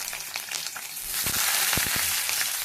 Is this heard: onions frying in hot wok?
yes